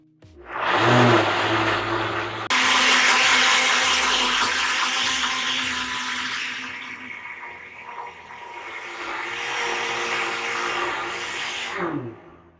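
A blender whirs loudly for several seconds grinding sauce, its motor pitch shifting as it grinds, then spins down and stops.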